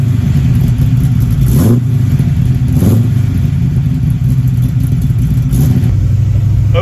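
The 350 V8 of a 1969 Camaro runs with a loud, steady, close rumble. A few brief swells rise out of the drone, and no voices are heard.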